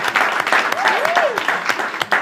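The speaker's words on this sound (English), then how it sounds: "Round of applause to Jekyll and Hyde." Short burst of audience applause for a Jekyll and Hyde performer at a live show, dense clapping with cheers and voices mixed in.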